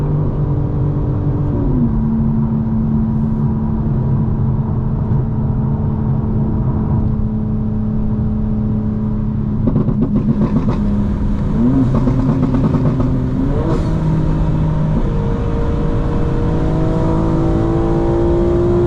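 A 900 hp 2025 BMW M4 Competition pulling hard in fifth gear on a sunset drive, its engine drone loud and steady from inside the car, pitch climbing gradually with brief shifts in tone partway through.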